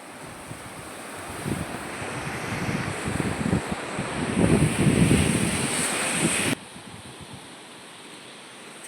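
Sea waves washing onto the shore at Dabhol beside the Ingalai Devi temple, with strong wind buffeting the microphone, a rushing surge that builds and then cuts to a quieter hush.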